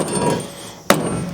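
A single sharp, loud strike from a new, pricey hammer knocks paint off its head, preceded by a quiet stretch of ambient noise.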